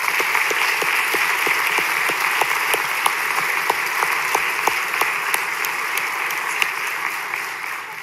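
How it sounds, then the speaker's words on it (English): A church congregation applauds a visiting couple, steady dense clapping with a few sharper individual claps standing out, sustained evenly for about eight seconds with no talking. "can we give them a round of applause?"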